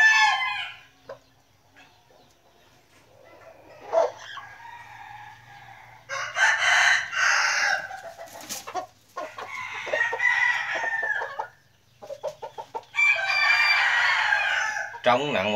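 Imported American bantam chickens, a 1.3 kg rooster and a 1 kg hen, with the rooster crowing loudly several times at close range and clucking between the crows.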